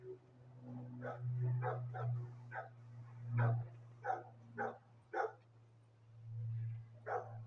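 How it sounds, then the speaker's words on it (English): A dog barks in a series of about a dozen short, evenly spaced woofs that come in bursts. The barking is faint and somewhat distant, with no talking. "And that dog barking, that's my baby right there."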